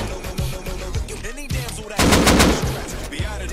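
Rapid machine gun bursts from the video game Rust, loud and dense with a heavier volley in the middle, mixed with other game sounds and no voices.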